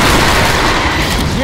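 A .50 caliber gun blasts in Killing Floor on Hard difficulty, a loud, continuous roar of rapid gunfire filling the whole moment with dense, overlapping reports.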